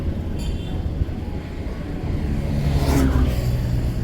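A train crosses a river bridge near Kolaghat on the road to Digha, heard from a passing car as a steady low rumble that swells slightly toward the end.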